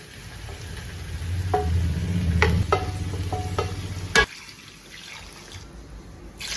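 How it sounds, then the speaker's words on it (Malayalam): Fried chicken pieces are stirred into a thick biryani masala in a pan. A soft sizzle runs under clattering spoon scrapes and a few knocks against the vessel, with a sharp clang near the end. No voices are heard. "നമ്മളിനി ഇതിലേക്ക് വറുത്ത് വെച്ചിരുന്ന ചിക്കൻ ഇടാം."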